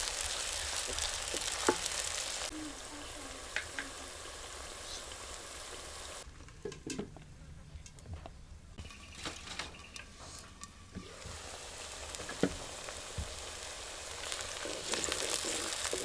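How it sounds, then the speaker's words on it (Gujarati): Chopped onions for a sweet corn curry frying steadily in a pan, a continuous close sizzle with occasional crackles and stirring scrapes, briefly quieter partway through. "હવે આને ડુંગળીને છે ને આપણે ઘડીક સડવા દેવાની છે થોડીક લાલ થાય"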